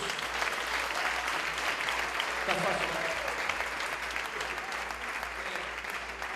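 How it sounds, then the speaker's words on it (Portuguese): A church congregation applauds steadily throughout, a dense wash of clapping, while a voice speaks briefly over it. "Quem pode aplaudir o Senhor Jesus?"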